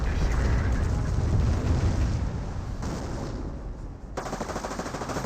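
A Calliope rocket barrage in Company of Heroes pounds down as a dense, continuous run of loud rapid blasts and rumbling impacts for several seconds, briefly dipping before another burst of explosions.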